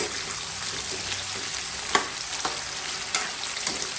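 Potatoes and carrots fry in a pan with a steady, broadband sizzle, broken by a few sharp stirring clicks and scrapes.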